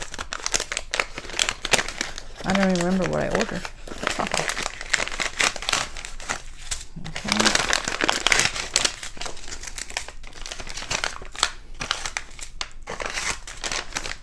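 Pretty wrapping paper with ribbon being unwrapped from a small package of diamond painting supplies: loud, close, continuous crinkling and rustling with sharper tearing bursts, while someone speaks briefly over it.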